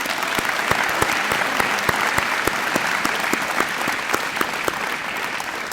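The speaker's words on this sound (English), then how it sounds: "Please give them a round of applause at this time." A graduation crowd at Perry Technical Institute claps loudly for veteran graduates, a thick, sustained wash of applause with sharper individual claps standing out near the front.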